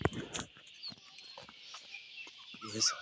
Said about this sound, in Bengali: এই মোরগটাই প্রতিদিন আমাদের ঘুম ভাঙায়